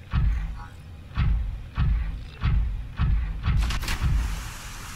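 Water splashes in a pool stirred by waves in the game Subnautica, coming as a steady series of about seven rhythmic, moderately loud surges with no talking.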